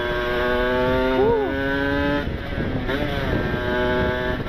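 A Kawasaki Ninja RR two-stroke motorcycle engine hums steadily while being ridden at a relaxed pace, close and continuous with a brief rev rise and dip, wind rushing across the microphone.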